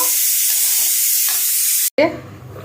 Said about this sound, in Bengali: দুন্দুল দিয়ে শিং মাছ ভাজ্যা রান্না করছি